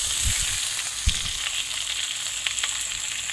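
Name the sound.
potatoes and drumsticks frying in oil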